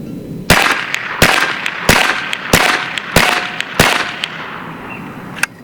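A Bin Tac B&W S45 semi-auto PCP airgun fires a magazine in six loud, sharp cracks spaced roughly half a second apart, each followed by a short ringing tail, then a faint click at the end.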